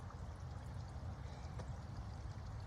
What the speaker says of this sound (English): Some water's running through here, and then there's a little water stream that runs there